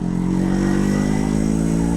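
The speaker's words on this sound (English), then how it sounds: "as soon as I start the motorcycle, I just feel that it's very powerful" A two-stroke Yezdi Roadking motorcycle engine drones loudly and steadily at close range, holding an even pitch with a slight buzzing pulse.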